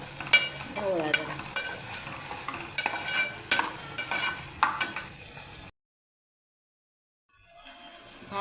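Onion and tomato fry in a pan with asafoetida for dal khichdi, a steady sizzle broken by scraping stirs, then a stretch of near silence before frying resumes.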